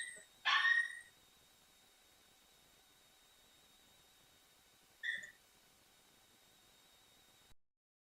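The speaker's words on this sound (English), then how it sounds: "That's my dog barking," A pet dog barks from another room, one short burst near the start and a second brief bark around five seconds, both muffled and distant against a quiet, faintly hissing background with no talking.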